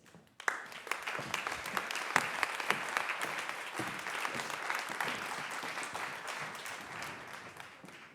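Conference audience gives sustained applause for panel speakers at a discussion, a dense clatter of many hands that starts abruptly and gradually tapers off.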